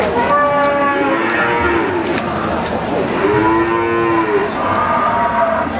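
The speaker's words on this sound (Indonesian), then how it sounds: "ini ada sapi-sapi bakalan" Fattening cattle at a livestock market low repeatedly, several long drawn-out moos overlapping close by amid a steady crowd murmur.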